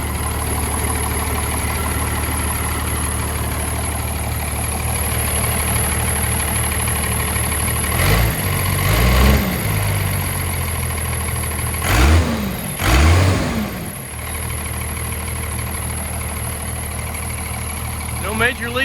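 A 1989 Cummins truck engine idles steadily and close by, a low continuous diesel rumble with a few brief louder swells midway, while a person talks over it.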